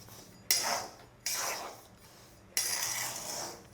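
Peanuts roasting in hot salt in a pan, heard as bursts of dry scraping and rattling as they are stirred, three separate stirring strokes with short pauses between, close and moderately loud.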